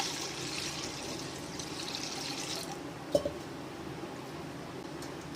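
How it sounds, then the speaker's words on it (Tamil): Water pours and splashes softly into a pot holding washed chana dal (split chickpeas), a steady trickle with a couple of small clinks partway through. "தண்ணி ஊற்றிக்கிறோம்"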